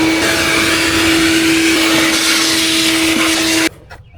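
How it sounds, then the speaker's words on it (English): A shop vacuum cleans debris out of the engine air filter housing on a Chevrolet Silverado 2500HD pickup truck, a loud, steady close-up whine with a constant pitch that cuts off abruptly just before the end. "vacuum this out and clean this out real quick, just because there is some debris in here"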